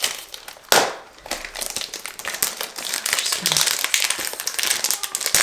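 Close, crisp crinkling and crumpling of packaging as a Kilian perfume is unboxed, with paper rustles and a sharper tearing burst near the start, no talking.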